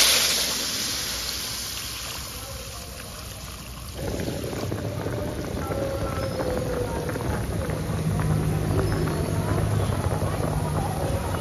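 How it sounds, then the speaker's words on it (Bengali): Water poured into a pan of fried potatoes for a Bengali potato and pumpkin-bori curry, a steady close rushing splash that swells after a few seconds and keeps running. "পরিমাণ মতো জল দিয়ে দিচ্ছি"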